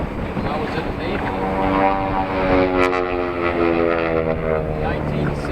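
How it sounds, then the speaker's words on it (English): A T-33 late-1940s jet flies past at an air show, its loud engine roar swelling and shifting in pitch as it passes, while someone talks over it. "The act we're closing this for right now is a T-33, which is a late 1940s jet."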